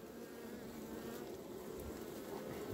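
A honeybee colony with a break in egg laying, its bees humming in a steady, dense buzz close by that swells slightly at the end.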